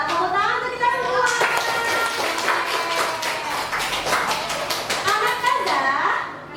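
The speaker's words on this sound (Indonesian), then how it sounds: "Tepuk tangan untuk kita semua." Children clapping together in a classroom, a burst of sharp rhythmic claps that gradually loosens into scattered claps, with young voices chattering and calling out over it.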